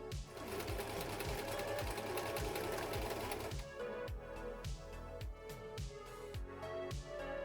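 A sewing machine stitches a seam in fast bursts, its needle clattering in a rapid mechanical rhythm, then slows to distinct repeated stitches.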